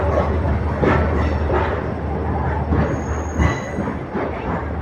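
A train pulls into platform 2 at Dindigul Junction, a busy station on the Tirunelveli to Karur line, with a steady low rumble and rolling wheel noise that holds close and loud throughout, without talk.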